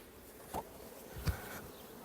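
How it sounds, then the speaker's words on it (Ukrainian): Honeybees buzzing around a hive frame as hive boxes are worked, a faint, steady close hum with a couple of brief louder passes near the microphone. "Трішки пчол."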